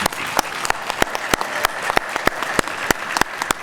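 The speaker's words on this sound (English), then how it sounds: "let's give a round of applause to the 2022 Louisiana Legislative Black Caucus Scholarship recipients once again." Audience applause at a Louisiana Legislative Black Caucus scholarship jazz brunch for scholarship recipients: dense, steady clapping from a full room, fairly loud and continuous, with sharp individual claps standing out from the general wash.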